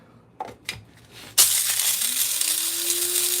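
A couple of soft clicks and then a sharp pop, followed by a steady hiss of released air with a faint rising whistle, close up.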